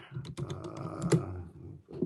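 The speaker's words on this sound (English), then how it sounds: "I'm gonna have to use the keyboard here" Close, quick clatter of keys on a computer keyboard, a burst of uneven taps with a faint voice murmuring underneath.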